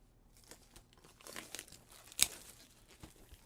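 Packaging of an RTX 2060 graphics card is unwrapped with soft crinkling and tearing of plastic and paper, quiet rustles building to one sharp crackle, close and alone.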